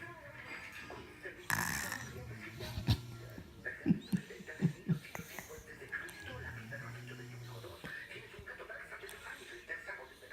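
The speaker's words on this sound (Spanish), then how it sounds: "Solo tiene 8 meses y ya está roncando." An 8-month-old baby snores in short, irregular breathy rasps. A few louder snorts come midway and there are quiet background noises throughout.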